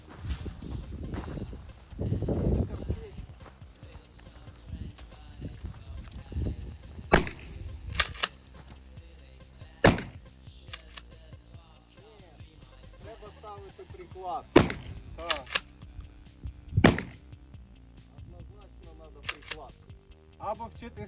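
Sharp, isolated gunshots crack out every few seconds at a shooting range, loud and close, with quieter clicks and brief talk between the shots.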